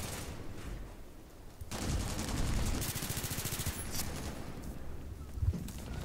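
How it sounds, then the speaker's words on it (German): A tank fires in the video game Battlefield 3, with bursts of rapid gunfire crackling at moderate distance amid a dense battle din, the firing coming in sustained volleys. "Da schießt schon der Panzer auf irgendwas."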